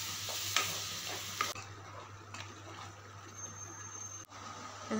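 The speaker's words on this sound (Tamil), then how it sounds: "அரைச்சி வச்சுருந்தா இந்த மசாலா பேஸ்ட்டையும் சேர்த்து நல்லா வதக்கிக்கோங்க." Ground masala paste sautéed with onion and tomato in a pan for a tamarind curry, giving a faint steady sizzle with soft scraping stirs and occasional clicks, and no talking.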